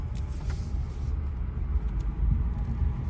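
A Chevy Bolt electric car rolls along a road, heard from inside as a steady, low rumble of tires and road noise with no engine sound, continuous and fairly quiet throughout.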